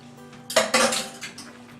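Venison stew ingredients with Worcestershire sauce and tomato paste stirred in a pot, a short burst of metal spoon clanks and scrapes against the pot, close and clear.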